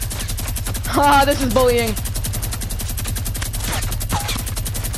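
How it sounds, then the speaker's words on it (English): A gold minigun in a video game fires a sustained, rapid stream of shots through the whole stretch while someone speaks briefly over it. "check out this minigun play"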